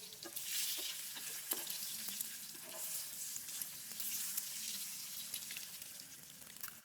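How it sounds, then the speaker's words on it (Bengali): Continuous hissing sizzle of eggs frying in hot oil, close and steady, with occasional light scraping taps from stirring. "তো ডিম ভাজা শেষ"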